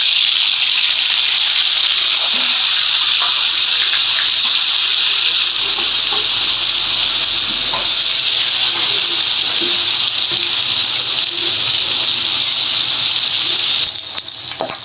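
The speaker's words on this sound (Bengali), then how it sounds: "প্যানটা ভালো করে গরম হয়ে গেছে আমি আগে টুকরাগুলো ভেজে নিচ্ছি" Fish pieces fry in hot oil in a pan, a loud, steady hiss and sizzle that fills the whole stretch and fades slightly near the end, with faint kitchen clatter beneath.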